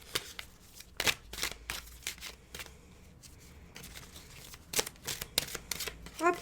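Tarot cards shuffled by hand in a run of crisp riffling bursts and soft slaps, close and fairly loud, with brief pauses between and a final card drawn; no talking.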